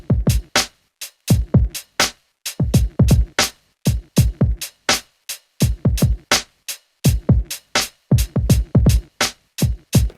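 A swingy drum beat with side chaining plays on an MPC Live II, with punchy kicks and snappy hits in an uneven, shuffling groove, loud and close with no voices.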